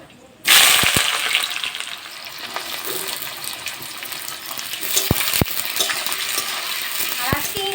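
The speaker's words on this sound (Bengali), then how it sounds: "পেঁয়াজটাকে লাল লাল করে ভেজে নিয়েছি" Whole garam masala spices, dried red chillies, bay leaves and onion hit hot oil with a sudden loud sizzle, then keep frying steadily. Sharp clinks of stirring against the pan punctuate the sizzle.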